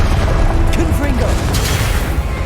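Confringo blasting spell exploding in Hogwarts Legacy, a loud deep boom with rumbling low end that rolls on for a couple of seconds while a character's voice shouts over it.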